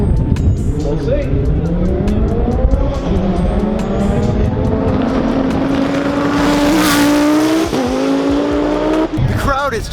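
A Lamborghini Huracan STO launches on a drag racing run at the TX2K22 event, its engine screaming loudly and climbing through rising revs with brief shift breaks, tire noise around it and a crowd in the background.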